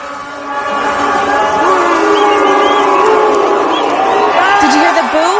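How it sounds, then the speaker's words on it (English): Mexican fans cheer loudly outdoors at a fan fest, a sustained roar of crowd voices with whistles and horn-like tones rising over it, steady and close for several seconds. "They're cheering."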